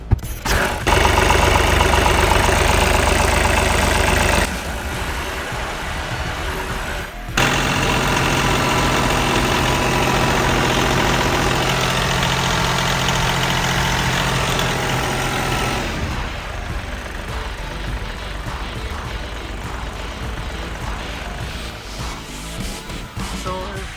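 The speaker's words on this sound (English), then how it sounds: "So now let's start our tractor" A tractor engine idles steadily and loudly with a low, even rumble, cutting out briefly early on before running on and softening toward the end.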